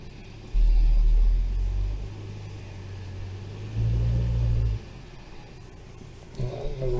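A 2018 Hyundai Elantra with a misfire and an out-of-spec spark plug, held in drive for a brake torque test: the engine surges into a loud, low rumbling rev twice, settling back to idle between, with a faint clatter near the end.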